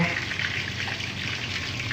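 Steady, dense sizzling of chicken frying in hot oil, continuous and fairly close, with a faint watery bubbling texture throughout.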